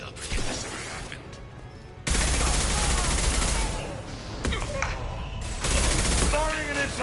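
Rapid gunfire from Mass Effect 2 comes in loud sustained volleys, dropping briefly and then surging back in heavy bursts of machine-gun style fire, with voices mixed in.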